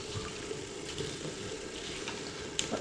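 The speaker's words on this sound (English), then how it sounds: "And just push the pasta into the water," Dried pasta pushed down into a pan of hot water for a veggie pasta dish, a soft steady bubbling and simmering wash with faint clinks, quiet and close, with no voices.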